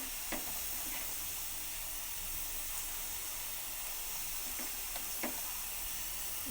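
Pumpkin fritters frying in hot oil in a wok give a steady, even sizzle and hiss, with a few faint taps and stirring clicks over it.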